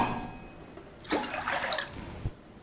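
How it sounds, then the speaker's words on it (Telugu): Water poured into a pot to boil sweet corn: a short gushing splash of liquid after a quiet start, settling into a brief trickle with a small knock near the end. "నీళ్ళు వేసుకుంటున్నాను"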